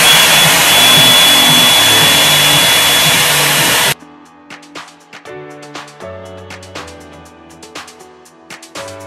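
A hair dryer blows loud and steady at close range while drying a bob wig, then cuts off abruptly, leaving soft background music.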